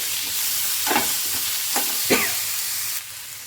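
Chopped tomato fries in a pan with a steady, loud sizzle, broken by a few scraping stirs before the sizzle drops off near the end.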